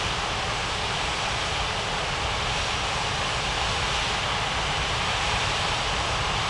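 An Alitalia airliner takes off in an air traffic control simulation, producing a loud, unbroken roar of engine noise that stays level throughout with no voices.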